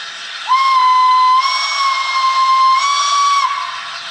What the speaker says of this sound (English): Function 2 is a playable whistle of variable length.